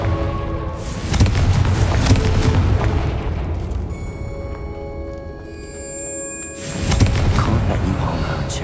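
Confringo blasting spell in Hogwarts Legacy bursts into loud booming explosions, a heavy roaring blast followed by a rumbling tail and a second powerful detonation near the end.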